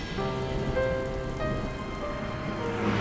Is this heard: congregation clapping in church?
no